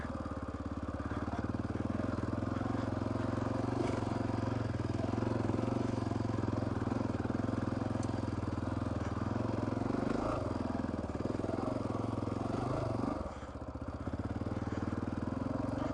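A Honda XR650R dirt bike being ridden through a desert wash, its single-cylinder engine droning loud and steady throughout, with brief revving changes near the end.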